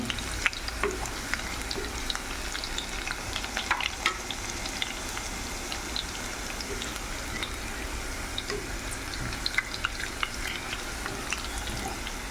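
Hot oil sizzles and crackles steadily in a pan while frying for a spicy tuna curry, with scattered sharp pops and spatters over a constant frying hiss, close and fairly loud, no voices.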